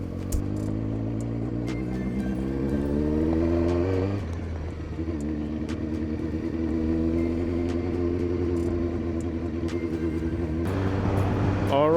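A Kawasaki ZX9R road motorcycle pulls away, its engine droning loud and near as it climbs through the revs, drops when the rider shifts gear, then climbs again, with steady wind and road noise around it.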